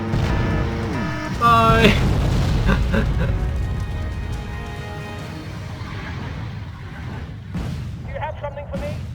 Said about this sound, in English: That sounds like rockets.